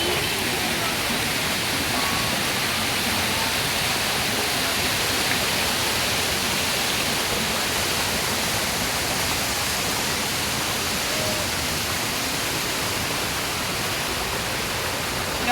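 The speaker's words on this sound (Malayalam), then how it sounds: "ഓരോരോ ചാലിൽ കൂടി വെള്ളം പൊക്കോണ്ടിരിക്കുകയാണ്" Water rushes through the channels of Pathazhakundu Dam in a loud, unbroken roar that holds steady from start to finish with no voices.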